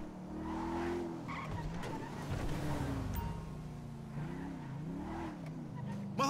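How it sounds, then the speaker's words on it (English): Grand Theft Auto V gameplay with a big 140-cubic-inch motorcycle engine droning steadily with rising and falling revs, tires skidding, loud and continuous, with a voice faintly in the background. "That's a monster fucking bike you riding"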